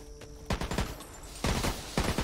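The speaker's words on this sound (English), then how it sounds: "It's so shaky when you're trying to shoot someone" Rapid bursts of SCAR rifle fire in the zombie shooter Back 4 Blood, three clusters of sharp, loud automatic shots separated by short pauses, close and punchy with no talk over them.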